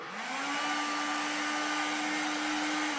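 Steam mop running in wet vacuum mode and sucking up dirty water from a floor, a steady loud motor whine with a constant high tone and airy suction noise, alone with no voices.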